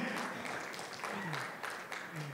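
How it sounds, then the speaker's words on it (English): An audience in a church service gives a round of applause for a Bible student, a continuous wash of clapping with a voice talking faintly over it. "Let's give Leah a round of applause,"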